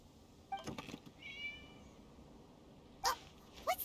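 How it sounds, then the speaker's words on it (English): A cat in the video game Genshin Impact meows in short, high, slightly faint calls, several brief cries spread across a quiet background. "It was just a cat."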